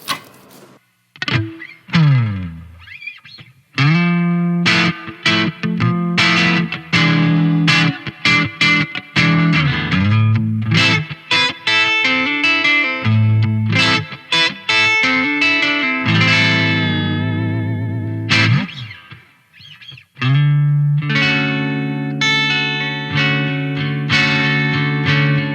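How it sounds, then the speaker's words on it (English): An electric guitar played through its neck pickup on the standard circuit rings out in a run of picked notes and sustained chords, bright with effects and reverb, with a short pause before it resumes; no one speaks. "here's what this guitar sounds like. I'm gonna first start with the neck pickup here on the standard circuit down here."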